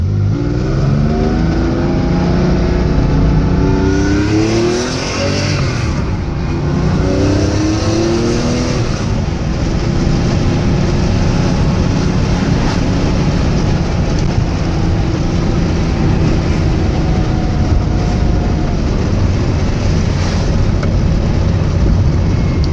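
A car engine revs hard through second- and first-gear downshifts, each throttle blip rising and falling in a loud, close, continuous roar with no talking.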